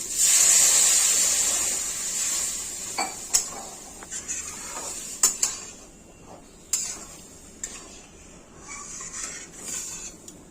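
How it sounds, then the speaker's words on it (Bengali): Water poured into a pan of frying potato, eggplant and drumstick vegetables sets off a loud burst of steamy hissing that fades, followed by scattered clinks and stirring knocks of utensils. "সবজির সাথে খুব সুন্দর করে ভাজা হয়ে গেছে সেন্ট বেরোচ্ছে ভাজা হয়ে গেছে যে এখন আমি জল দিয়ে দিচ্ছি"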